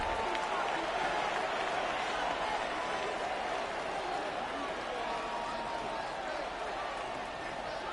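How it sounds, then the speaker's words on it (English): Stadium crowd in a Madden NFL football video game, a broad steady roar of cheering and noise running throughout at constant loudness, with a commentator's voice faintly mixed in. "This crowd into it now as we get to third down"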